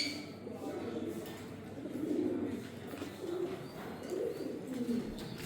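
Pigeons in an indoor breeding room coo in soft, repeated low phrases, several birds overlapping at close range over a faint background hum.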